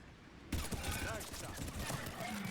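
Gunshots in Mass Effect 3 combat, a sudden loud burst of firing after a quiet start, continuing as clattering shots and mechanical noise over the rest.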